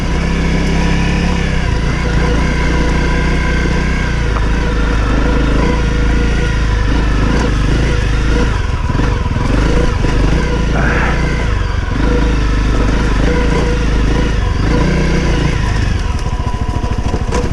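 Honda CRF250L dual-sport motorcycle engine on an off-road trail ride, a steady loud drone that rises and falls in revs throughout, close to the rider, with brief voice under the engine.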